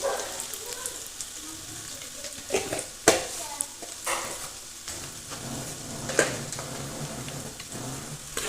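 Garlic roasts in hot oil with turmeric for a village-style chicken curry, a soft sizzle under repeated scraping and clattering strokes of a spoon in the pan, with a louder knock now and then.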